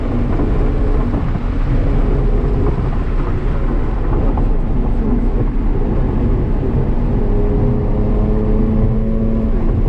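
A Porsche 911 runs on a race track, its engine giving a steady loud droning roar close by with rising and falling pitch as it accelerates, under heavy wind noise and without voices.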